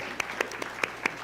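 Church congregation of a middle-school youth worship service applauding: a short burst of scattered claps with a few sharper peaks, moderately near, with no talking over it.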